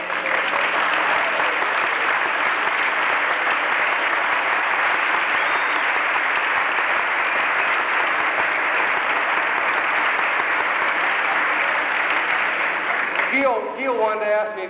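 A dinner audience at a Minnesota Golden Gophers recognition event claps steadily and loudly for All-Americans standing up, broad continuous applause filling the room before a voice cuts in near the end.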